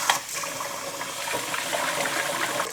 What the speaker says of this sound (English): make sure that you are rinsing the crud off of your rice